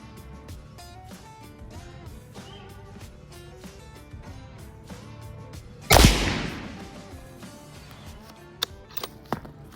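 A Howa Mini Action rifle in 7.62x39 firing Armageddon ammunition lets off a single loud, sharp shot midway, with quiet intervals before and a few faint clicks afterward.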